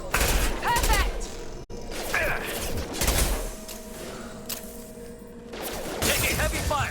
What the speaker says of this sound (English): Taking heavy fire! Watch out! Shoot them before they take out your shields.